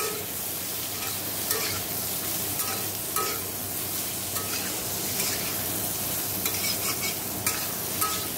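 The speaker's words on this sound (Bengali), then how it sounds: "পটলটা ভালো করে লাল লাল করে ভেজে নিই" Continuous sizzling of pointed gourd frying in oil until browned, with occasional light stirring scrapes, close and steady throughout.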